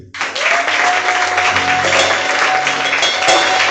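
A church congregation bursts into loud, sustained applause praising the Lord, a dense wash of clapping that starts abruptly and holds steady throughout, with faint voices and a held musical tone beneath.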